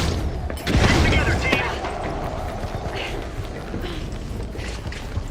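A frag grenade blows up during a ranked tournament match in The Finals, a loud boom early on followed by rumbling debris and scattered gunfire, with a commentator talking over the action.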